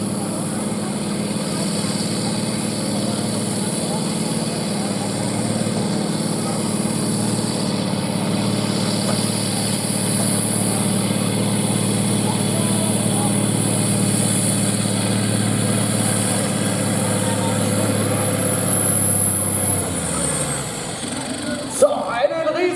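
A two-wheel-drive tractor's engine drones steadily and loudly at a tractor pulling event in Trautenfels, Austria, holding a sustained roar before cutting off near the end.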